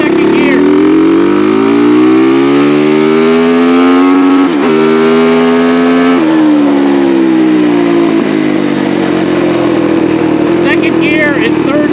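A KTM hybrid motorcycle pulls hard in second gear, its engine note rising steadily, loud and close, with a brief shift-like dip midway before climbing again, no speech over it.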